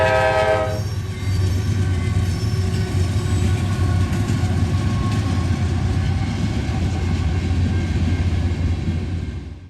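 A long Norfolk Southern westbound manifest freight train of over 230 cars, led by two C6M locomotives, rumbling past close by in London, Ohio, a steady heavy roar with a train horn sounding briefly at the start.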